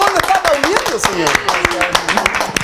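Brisk audience clapping in a studio, many quick hand claps in a lively patter, runs under a loud voice speaking over it.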